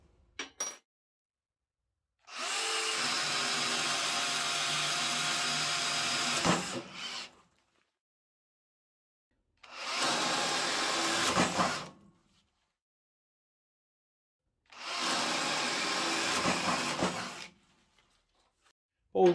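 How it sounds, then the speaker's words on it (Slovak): Three sustained bursts of a Metabo SB 18 LTX BL cordless drill boring a 28 mm hole, each several seconds of steady, loud whirring separated by silence, close to the microphone with no voices. "Ďalej pokračujeme vŕtaním motoru o priemere 28 mm."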